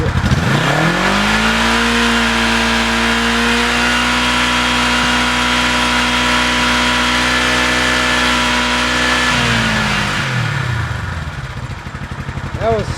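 A 1973 Honda CB450 motorcycle engine held steady at high revs around 7,000 RPM, a loud continuous close drone that then drops away sharply as the throttle is released.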